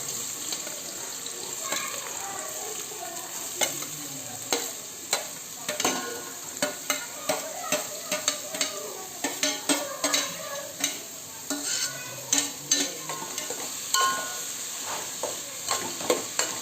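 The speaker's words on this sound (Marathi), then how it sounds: "कांदा फोडणीला." Chopped onion fries in a hot tempering in a pan for pav bhaji, giving a steady sizzle broken by frequent close clinks and scrapes of stirring, with a faint tap-water hiss in the background.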